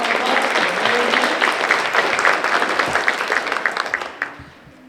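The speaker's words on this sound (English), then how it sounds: "Let's give him a big round of applause." An audience at a school district geography bee gives a contestant a round of applause, dense, loud clapping from many hands that holds steady for several seconds and then quickly dies away.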